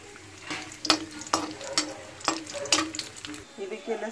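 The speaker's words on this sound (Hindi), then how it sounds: "पहले मैं लहसुन को भून लूंगी इसमें" Garlic frying in oil, a soft crackling sizzle broken by repeated scraping stirs of a spoon in a pan, fairly quiet and close.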